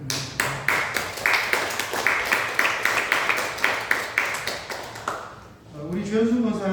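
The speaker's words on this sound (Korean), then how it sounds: "우리 감사와 축하의 박수를 드립니다" Members of a church congregation clap together in celebration of birthdays, a crisp, brisk, evenly paced rhythm of many hands that runs for about five seconds before stopping, followed by a voice speaking.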